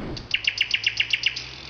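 A nightingale sings a quick series of about nine bright, evenly spaced high chirps, clear and fairly close, over faint low background hum.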